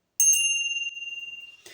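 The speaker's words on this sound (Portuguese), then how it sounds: "Parecido uma campainha, um chocalho desse, na ponta de uma vara." A hand bell like a small rattle on the end of a pole gives a bright metallic ring, struck twice in quick succession, then a long clear tone that fades out. A faint rustle follows at the end.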